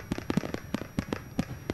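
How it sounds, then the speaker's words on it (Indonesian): Japanese summer matsuri hanabi fireworks exploding, a rapid irregular series of sharp bursts and crackles, about ten reports in under two seconds, moderately loud from a distance with crowd ambience underneath. "Ini dia pesta kembang api atau Hanabi."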